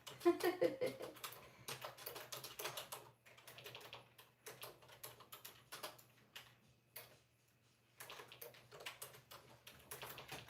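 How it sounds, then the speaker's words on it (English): Someone types a message on a computer keyboard with long nail tips, a quiet, rapid, irregular clatter of keystrokes in bursts, broken by a couple of brief pauses. "I'm gonna type in a message here to everybody"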